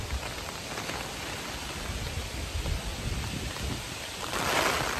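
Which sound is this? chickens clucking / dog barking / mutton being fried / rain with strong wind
rain with strong wind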